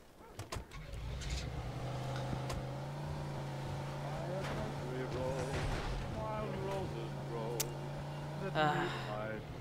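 A car engine in the Mafia 2 video game hums steadily as the vehicle drives, with occasional revs and bumps, moderately close, while a person talks over it.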